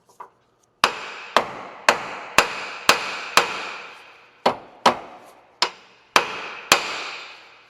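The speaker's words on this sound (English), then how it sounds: "So I'm going to hammer it right here on this nib." A steel hammer strikes a stuck outer tie rod end at the steering knuckle of a 2007-2011 Honda CR-V FWD. About eleven sharp, ringing metallic blows land close up in an uneven rhythm, each fading quickly.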